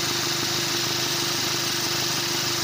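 A Ford car's air-conditioning compressor runs with the engine idling, giving a steady mechanical hum and whir with a constant drone throughout, close and moderately loud, with no talking.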